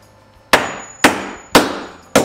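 Hammer smashing mosaic material wrapped in a towel: four sharp, loud impacts at a steady rhythm about half a second apart, each with a short crunching decay, close up and with no talk.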